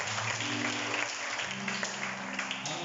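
A church congregation claps and cheers in praise, a short burst of dense applause at moderate distance with a steady hum underneath.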